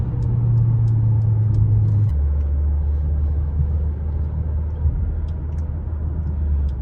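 Mercedes-Benz GLB200 4MATIC with a 1.33 litre 163 hp engine easing off after hitting 100 km/h: a steady low road rumble and engine drone inside the cabin, dropping in pitch about two seconds in, with no talk.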